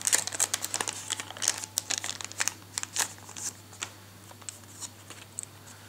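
Crinkly plastic wrapper of a Phantom Gate trading card pack being worked open up close, with dense crackles and rustles at first that thin into sparser crinkles, and no talking.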